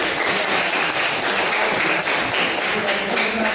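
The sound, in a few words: class applauding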